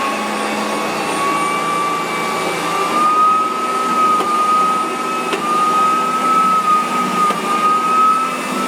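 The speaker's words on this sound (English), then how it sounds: "the Riccar tandem air machines are such high performing vacuum cleaners" A Riccar Tandem Air vacuum cleaner motor runs in a steady, loud, close whine with a high tonal note that holds throughout, with no voices.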